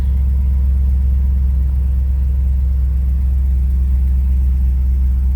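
A fuel-injected 5.3 liter Vortec V8 idles steadily and loudly up close, its deep even rumble running unbroken with a stock exhaust and no voices.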